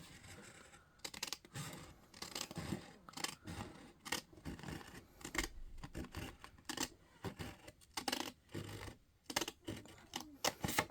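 Scissors snip repeatedly through paper for a crafting card project, a busy close run of crisp cuts with irregular rhythm and brief pauses.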